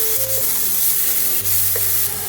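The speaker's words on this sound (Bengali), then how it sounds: "পেঁয়াজ কুচানোগুলো লাল লাল করে ভেজে" Chopped onions fry in hot oil with a dried chilli and bay leaf, giving a close, continuous sizzle while they are stirred in the pan, with no talking.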